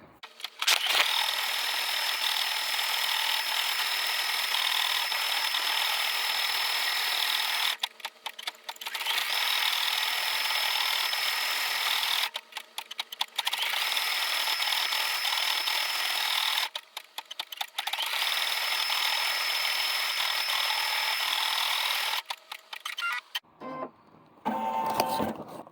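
Computerized embroidery machine stitching a quilt block, a steady high mechanical whir with rapid needle chatter, running in long even stretches broken by several brief pauses before stopping near the end.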